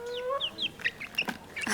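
Chickens cluck on a family farm, a string of short, close calls that overlap and grow busier and louder toward the end.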